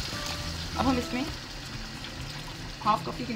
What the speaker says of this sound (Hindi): 1/2 कप के करीब पानी ऐड करेंगे।